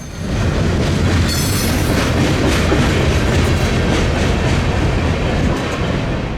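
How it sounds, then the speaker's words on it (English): A Norfolk Southern freight train led by three locomotives eases downhill on a snowy mountain grade, its loud, steady rumble and wheel clatter filling the whole stretch without any voices. "the 3 locomotives eased their train down the mountain"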